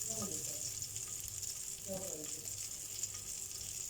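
Mutton seekh kebabs fry in a frying pan with a steady, fairly faint oily sizzle and crackle throughout, plus a couple of soft scrapes or shifts of the pieces, heard close with no one talking.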